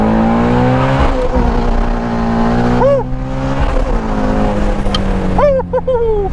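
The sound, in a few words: Shelby Ford GT350 accelerating at wide open throttle, first gear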